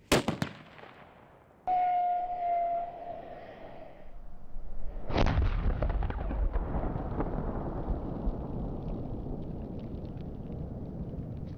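A hand-thrown military pyrotechnic explosive simulator with a fuse igniter detonates in a single loud, sharp blast, followed by a long rumbling roar that slowly fades, heard outdoors without voices.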